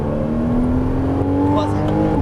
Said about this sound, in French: Allez, débraque et t'accélères dans la ligne droite.